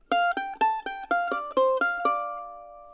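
A mandolin plays a short single-note lick starting on F, with about eight bright plucked notes in an even rhythm, ending on a sustained D that rings out, close and clean.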